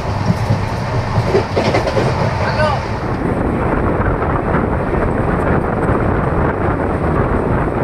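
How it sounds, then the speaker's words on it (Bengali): The Dhauli Express pulls into Basta railway station in Odisha, a loud, close, steady rumble with rattling wheels and carriages that eases slightly partway through. "তো ট্রেন এখন এসে পৌঁছালো উড়িষ্যা রাজ্যের"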